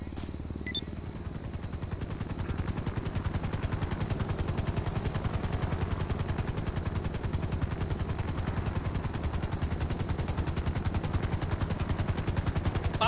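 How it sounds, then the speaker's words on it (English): Helicopter in the video game GTA V Online arriving to land, a steady rapid rotor thump that swells slightly and stays loud and continuous throughout. "A helicopter is on its way."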